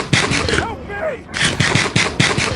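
Rapid bursts of gunfire from the video game Darktide crack out close and loud in quick repeated volleys, pausing briefly mid-clip while a voice and squealing effects come through before the shooting resumes.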